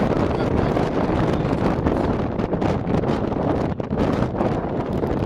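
Strong wind buffets the microphone at the coastal London Bridge rock arch in Victoria, Australia, a loud continuous roaring rush with no break.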